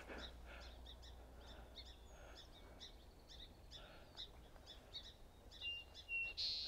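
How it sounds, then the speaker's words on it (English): Song sparrows call in a marsh at Birch Bay State Park, a series of faint, distant chirps and short song phrases over a low background hush. "a lot of song sparrows calling."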